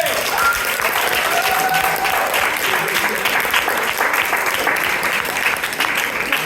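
Sustained, even applause from an audience at an improv comedy show runs loud and dense throughout, a steady crackle of many hands with faint voices beneath.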